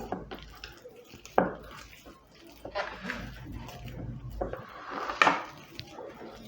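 Mashed sweet potato and wheat flour being mixed together in a bowl for paratha dough, scattered close knocks and scraping clatters of a utensil against the dish, with quieter rustling stretches between.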